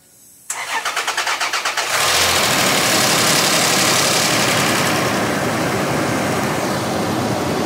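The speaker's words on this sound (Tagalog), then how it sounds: "Ang unang start talaga niyan, talagang maingay kasi yung kanyang lifter ay wala pang langis" Toyota 1GR V6 engine from a Land Cruiser on its first start after assembly: a loud cranking burst settles into a steady, busy idle with a clattering, ticking edge from lifters still dry of oil, with no talk.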